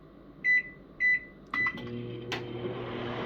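Two short electronic beeps, a click, then a microwave oven starts up and runs with a steady low hum.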